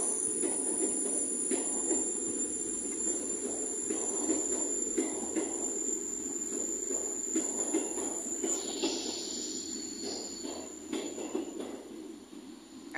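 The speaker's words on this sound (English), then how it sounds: "Nice to see a bit of Southwestern Railway action." A Southwestern Railway class 159 diesel multiple unit runs along the platform at Exeter St Davids station with a steady rumbling drone, brief wheel and brake hiss, and a faint squeal toward the end.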